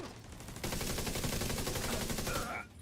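A sustained burst of automatic turret gunfire in a video game, a dense rapid rattle lasting about two seconds before cutting off, loud and close.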